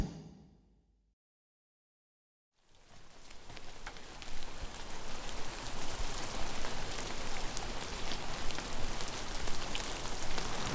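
Steady rain falls on a surface on a wet morning before an outdoor sprint event, a dense even hiss of drops that starts after a brief silence and continues loud and unbroken.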